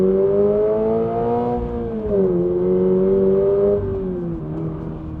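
A 2026 Toyota GR86 Yuzu Edition with a naturally aspirated engine holds a steady, loud drone that rises and falls in pitch as the revs climb and ease back, heard close from inside the cabin with no talk.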